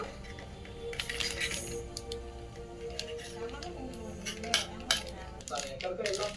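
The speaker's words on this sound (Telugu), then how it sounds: "సో నేను ఇప్పుడు టమాటాస్ అయితే కటింగ్ చేస్తున్నా" A knife cutting tomatoes on a board while making bread pizza, with small irregular clicks and taps scattered through a steady background hum.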